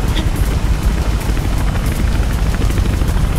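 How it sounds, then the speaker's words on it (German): A helicopter in the video game Mirror's Edge makes a loud, continuous rotor thumping and whooshing throughout, with no talking. "Der Helikopter hat dich entdeckt."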